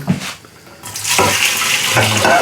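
Warm tap water runs into a fermentation jar, a loud close splashing stream that starts partway through after a brief quieter moment.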